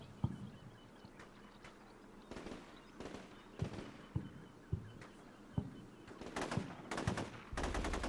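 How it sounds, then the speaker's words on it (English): Bursts of machine gun fire and scattered gunshots crack through a war video game battle, sharp repeated reports near and far over a low rumbling background, with no talking. "I should have told the machine gun teams to stop firing."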